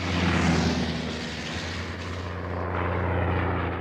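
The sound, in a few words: Nieuport fighter plane flying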